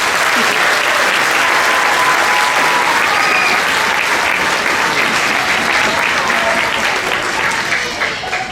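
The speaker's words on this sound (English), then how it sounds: "So round of applause for our composer." A school spring band concert audience applauds the student composer of a jazz band piece, steady dense clapping filling the hall for the whole stretch and easing slightly at the end.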